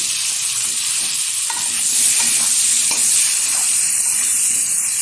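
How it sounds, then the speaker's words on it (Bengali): Potato pieces frying in hot oil in a pan, a loud steady close sizzle and hiss with faint stirring clicks throughout. "এবার আলুটাও সুন্দরভাবে ভেজে তুলে নেব একটা পাত্রে।"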